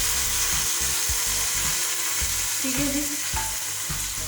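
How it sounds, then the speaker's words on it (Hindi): Onion and garlic tadka is poured into kadhi, giving a steady, loud, close sizzle and frying hiss with some stirring clatter, while someone speaks briefly over it. "अब मैं इसमें लगाऊंगी जी कढ़ी में अपनी तड़का"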